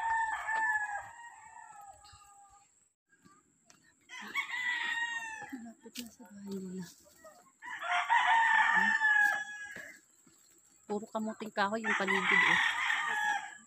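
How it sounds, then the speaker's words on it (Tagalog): Many red chickens in a rural yard near mango trees in Tanay, roosters crowing in repeated loud calls with clucking between, heard alongside someone speaking. "Maraming manok na pula."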